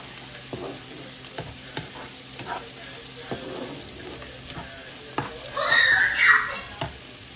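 Masala being stirred and sautéed in a pan before fried golden pompano fish goes in, with soft scraping stir strokes at steady intervals and a louder burst of sizzle near the end, no talking.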